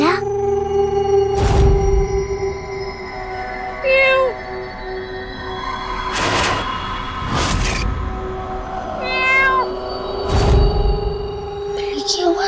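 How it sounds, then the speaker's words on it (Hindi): A cat meows several times indoors, short rising cries spaced apart, mixed with dull thumps and knocks against a steady musical background. "बिल्ली की आवाज, इसका मतलब कोई बिल्ली घुस आई है।"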